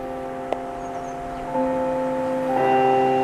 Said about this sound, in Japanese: なぜ学校チャイム。